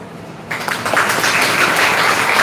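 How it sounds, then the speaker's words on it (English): An audience at an inaugural session breaks into applause after a quiet start, and the clapping swells into a steady, full round. "May I request the audience to acknowledge this moment with a warm round of applause."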